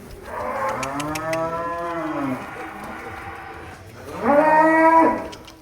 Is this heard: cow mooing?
yes